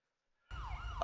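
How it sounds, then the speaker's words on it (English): A police siren from the video game LSPDFR, a GTA V mod, cuts in abruptly with a wailing sweep, loud and close over low engine rumble for under a second, with no talk. "let's get all these sirens off"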